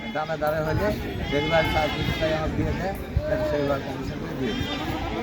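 Goats bleat repeatedly at the crowded Taherpur goat market, their wavering calls overlapping near and far beneath steady conversation between men.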